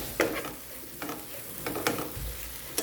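Spice paste frying in oil for a kochu pata and chola dal bora dish, giving a soft low sizzle broken by a few sharp scraping stirs of a spoon in the pan, with no voices.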